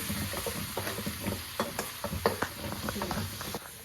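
Garlic and ginger sizzle and crackle steadily in oil in a pan, with occasional stirring scrapes, while a voice talks faintly in the background.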